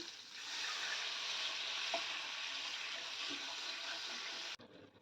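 Tamarind water pours into a pan of hilsa fish, setting off a loud, steady broadband sizzle that holds for about four and a half seconds before cutting off sharply, with no talking.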